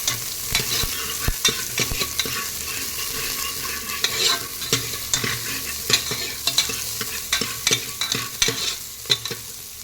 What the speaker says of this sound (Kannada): ಸ್ವಲ್ಪ ಸ್ಮೆಲ್ ಹೋಗೋವರೆಗೂ ಬಾಡಿಸ್ಕೊತೀನಿ.